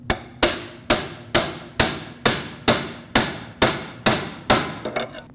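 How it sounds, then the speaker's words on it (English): A hammer striking a pry bar to punch a clamp off a bellows boot on a 2006-2015 Lexus IS250, about ten sharp metallic blows in an even, steady rhythm, close and loud, with a few quicker lighter taps at the end. "I'm going to just go for the pry bar method and punch it off of there"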